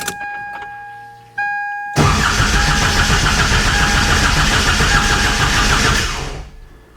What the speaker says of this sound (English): So let's crank her over and see what we do.